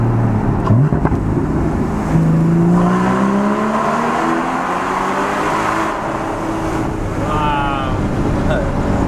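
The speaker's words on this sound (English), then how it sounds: "I'm a big fan of the sound of this car." A Porsche Cayman GT4 engine revs through a tunnel, its rising and falling harmonic drone loud and close with booming reverberant wind noise, and voices chatter briefly over it.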